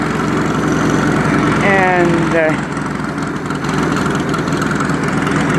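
A 1951 Ferguson TE 20 tractor with an English-built Standard Motor Company wet-sleeve engine idles steadily and close by, a continuous low rumble with a brief voice speaking over it partway through.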